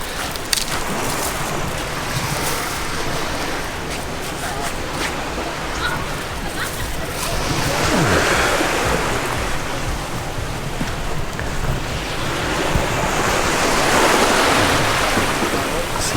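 Ocean waves wash onto a tropical shore at Alona Beach, Panglao, Bohol, a loud steady surf rush swelling in gentle surges, with faint voices mixed into the background.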